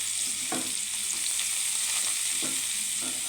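Chopped onion with cumin seeds fries in hot oil, a constant close sizzle broken by a few soft stirring scrapes of a spatula, with no voices.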